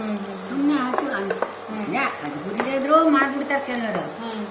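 Indian gooseberries roast in a pan for tambuli while being stirred, with a soft sizzle and scraping stir strokes that run under steady conversational speech.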